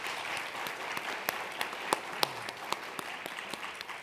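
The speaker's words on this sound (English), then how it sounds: "Can I ask you please to give them another round of applause?" A conference audience applauds a healthcare panel, a moderate, steady round of clapping with distinct individual claps standing out, alone without talk.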